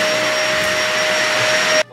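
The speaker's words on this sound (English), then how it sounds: "time to vacuum" A household vacuum cleaner runs loud and steady with a high whine during indoor houseplant chores, then cuts off abruptly near the end.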